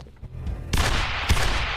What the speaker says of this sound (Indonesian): dan aksi baku tembak pun tak terelakkan lagi